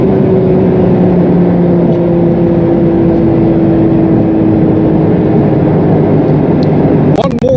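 A Porsche 911 GT3 992 Touring with a manual gearbox revs hard at high RPM, a loud, sustained engine whine holding a steady pitch over road and wind roar, cut off abruptly near the end.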